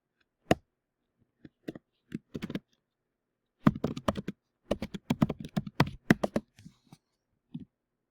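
Fingers tap a computer keyboard while a password is entered, starting with a few isolated keystrokes and then breaking into a quick, uneven burst of clicks, fairly close and quiet, with no talking.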